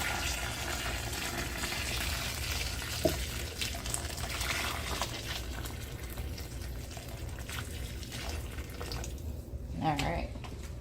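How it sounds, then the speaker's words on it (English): Hot water poured over oxtail meat in a kitchen, a steady close wash of running, splashing liquid lasting throughout, with a soft bump near the start of the pour. "We're gonna go ahead and pour it over our meat."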